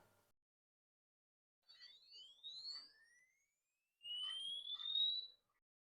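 Thin, shrill electronic tones from a cheap piezo speaker held in a clothes peg rise in pitch, a couple of faint chirps followed by a louder, steadier sweeping test beep, alone in quiet surroundings.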